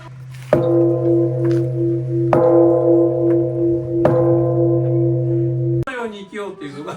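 A temple bell at Senkoji, a remote Zen temple on a hillside near Kyoto, struck three times at an even pace, each deep ringing tone sustaining and humming before the next strike, loud and close, ending in a short burst of other noise.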